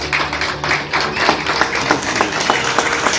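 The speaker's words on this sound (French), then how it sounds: "On les applaudit." Wedding guests in a church applaud the newlyweds right after they are declared husband and wife, a lively round of clapping with some distinct close claps standing out from the crowd.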